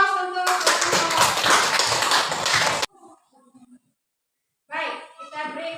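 Classroom of students bursting into loud, dense clapping for about two seconds, close and steady, then stopping abruptly before a teacher resumes talking.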